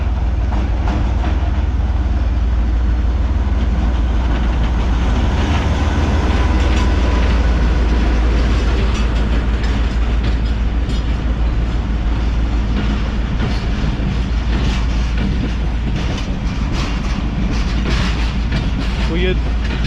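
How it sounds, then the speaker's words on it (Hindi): The 214 Down Mohenjo Daro passenger train, hauled by GMU15 locomotive 4807, rolls past close by in Sindh after heavy rain, a loud, steady rumble with rhythmic clickety-clack of coach wheels throughout, and a voice talking over it. "ये बिल्कुल मेरे सामने से आ रही है मेरी आज की ट्रेन, यानी कि 214 डाउन मोइंजोदड़ो पैसेंजर ट्रेन GMU15"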